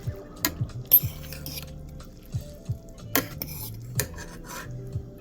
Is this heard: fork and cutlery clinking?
yes